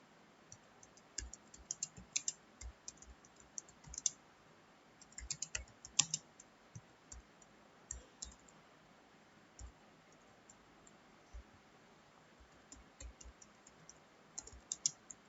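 Typing HTML code in Notepad on a computer keyboard, with quiet, close, irregular key clicks arriving in bursts and short pauses, alone without speech.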